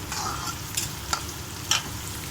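Sliced onions frying and sizzling in a pan of oil for besan curry, a steady hiss broken by a few soft stirring scrapes.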